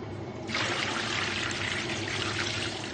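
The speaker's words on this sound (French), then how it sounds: "Celui qui trempe les fils de coton dans la paraffine, c'est Ludovic" Cotton wicks are dipped into a bath of liquid paraffin in a candle workshop, giving a steady pouring, trickling liquid sound that starts abruptly and continues evenly, close and fairly loud with no voices.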